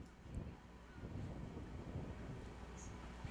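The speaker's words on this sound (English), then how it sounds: "it is very windy here at Aldo Centagas Stadium" Steady wind rumbling across an open outdoor soccer stadium during a match, a continuous low buffeting roar with no distinct events.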